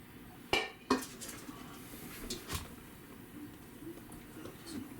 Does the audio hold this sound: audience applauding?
no